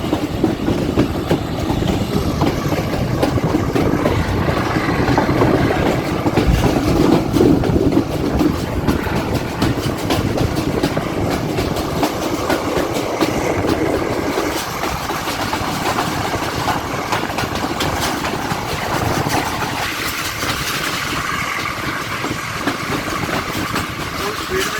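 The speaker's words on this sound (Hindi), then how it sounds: "ट्रेन अब अपनी स्पीड पकड़ चुकी है।" A train with a smoke-puffing locomotive gathers speed on the rails at a Golra Sharif railway junction, a loud continuous rumble of engine and wheels with clattering rail noise throughout.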